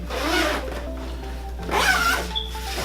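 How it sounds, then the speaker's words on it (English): A zipper is drawn in two short passes, a rasping scratch near the start and another more pronounced pull later, over a low steady hum. "Zipper quality. I've zipped a lot of zippers in my lifetime."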